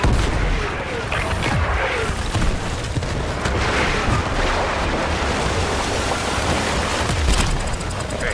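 Incoming artillery strike in the military shooter Battlefield 6, a sustained loud rumbling barrage of booms and crashing blasts that continues throughout, dense and close with no clear gaps.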